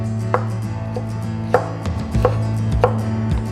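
Knife chopping mango salsa ingredients into smaller chunks on a board, several sharp distinct chops spaced irregularly over a low steady background hum, close and clear with no talk.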